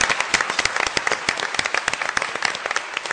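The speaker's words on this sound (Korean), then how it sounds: "대통령님께 여러분 좀 뜨거운 박수 보내주셨으면 좋겠습니다" A studio audience claps warmly for the president after a televised internet dialogue, a lively crowd of hands with distinct sharp claps standing out, close and fairly loud throughout with no speech.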